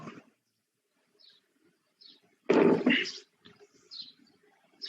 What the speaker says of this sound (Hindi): बैकग्राउंड में चिड़िया की आवाज आ रही है?